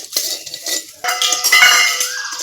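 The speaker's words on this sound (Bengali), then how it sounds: "এই হলুদের গুঁড়ো দিয়ে আবারও আমি ভেজে নিচ্ছি" Chopped onion and turmeric powder frying in a pan are stirred, with metal utensils scraping and clinking against the pan in close, busy bursts and a brief pause between them.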